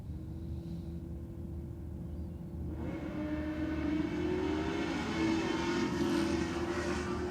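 Drag racing cars, a BMW and a Ford Falcon, roar down the strip at Sydney Dragway on a competition night, a steady distant engine drone that swells and rises in pitch as they run, with no talk over it.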